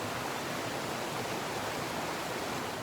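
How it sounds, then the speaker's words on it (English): Low water of the Mole River in New Zealand rushing over its bed in winter, a steady broadband hiss of flowing water that stays even and close throughout, with no voices. "I'm now onto the Mole River."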